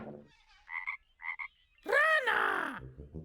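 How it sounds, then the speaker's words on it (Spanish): Cartoon frog croaks in a children's animal-names show: two short double croaks, then a louder, longer warbling croak, close and alone with no talk. "¡Rana!"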